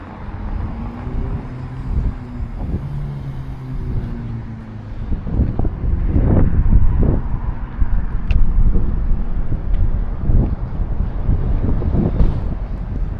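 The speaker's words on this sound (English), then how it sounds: "We are in the bright, slightly windy Leicester." Steady wind rumble buffeting the microphone outdoors in Leicester, England, with traffic-like low drones and passing noises, no talking.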